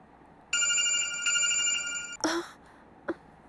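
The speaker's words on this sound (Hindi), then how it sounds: "ओह गॉड, अपना फोन अभी बंद करो।" A phone rings with a bright, steady electronic tone for about two seconds, then it stops and a few short knocks and clicks follow in a quiet room.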